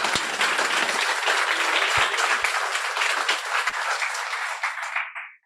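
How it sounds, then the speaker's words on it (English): Warm applause from a graduation audience at a guide dog school campus ceremony, steady dense clapping for about five seconds before fading out quickly at the end. "So a warm round of applause for our placement specialists"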